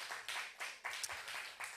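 Clapping from a worship service congregation after a group sang a Korean children's song, a short burst of irregular hand claps with accented peaks, moderately close and fairly faint.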